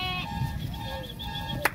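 Sheep bleating at a farm sale in Dois Riachos, Alagoas, Brazil, several wavering bleats from nearby animals over a low background murmur, with a sharp knock near the end.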